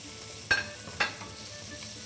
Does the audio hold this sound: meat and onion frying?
yes